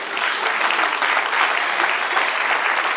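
A church congregation at a Bible class claps together in sustained, even applause, a steady wash of hands heard clearly throughout.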